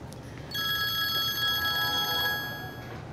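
A telephone rings with a steady electronic bell tone for a few seconds, clear and fairly close, over a low background hum.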